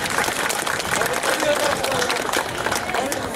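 Audience applause at a folk dance competition festival, dense steady clapping from a crowd with a voice over it, continuous across the short stretch.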